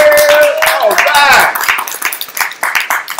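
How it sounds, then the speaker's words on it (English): Sharp rhythmic hand claps at the start of a live-stream hip-hop podcast, a run of quick strikes over a musical tone and loud talking, the claps growing sparser and more uneven toward the end. "Clap it up then, goddammit"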